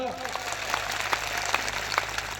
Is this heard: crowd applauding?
yes